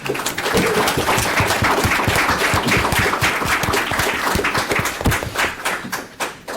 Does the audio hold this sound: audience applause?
yes